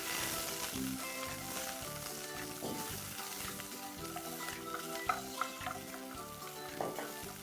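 Ginger and garlic hit golden-brown fried onions in a pan, a quiet sizzle running beneath background music, with a few sharp utensil clicks toward the end.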